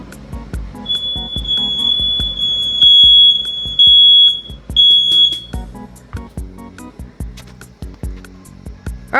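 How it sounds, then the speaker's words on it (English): A household smoke alarm shrieks during a test in a new house, sounding a piercing high-pitched tone in several long bursts with short gaps, loud and close over a background of clattering knocks. "The smoke alarm."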